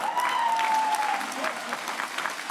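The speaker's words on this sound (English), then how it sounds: "Go ahead and give it a round of applause." A graduation ceremony crowd claps steadily in a dense, even patter of applause that carries on without a break.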